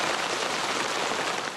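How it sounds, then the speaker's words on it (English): Hail pelts down over central Perth during a winter ice storm, a dense, even hiss of stones striking surfaces, loud and continuous without a break. "Central Perth pelted with hail this morning."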